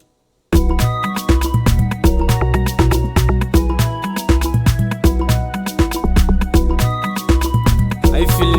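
An afrobeats instrumental with ogene bell plays steadily from a music session, loud and full, with punchy low drums and bright metallic bell hits repeating in a driving rhythm after a brief silent start.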